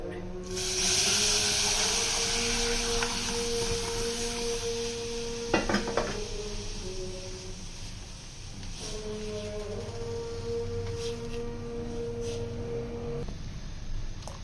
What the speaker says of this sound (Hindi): अब जो हमने 1 लीटर दूध लिया था बॉईल करके हमने रखा हुआ है वो इसके अंदर डाल देंगे